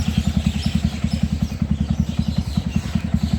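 Modified Yamaha R15 motorcycle, so far with only cosmetic mods and a stock exhaust, idles close by with a steady, rapid low thump and a faint rattle, running alone without voices.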